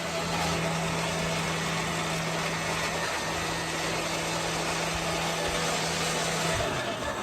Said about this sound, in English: I got the blender to work.